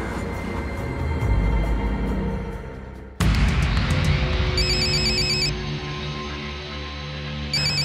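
A telephone rings loudly in a tense crime drama, its electronic ringtone repeating in bright pulsing bursts for several seconds, with a sharp cut partway through and no voices over it.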